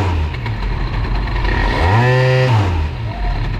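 Bidalot RF 50 WR small motorcycle engine buzzing steadily, rising in pitch and then dropping again while the rider brakes with the rear and the hot clutch struggles, loud and close with no talking.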